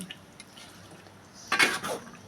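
Metal utensil scraping and clanking against a cooking pot as chicken with garlic is stirred, a few close, short bursts of stirring after quiet moments.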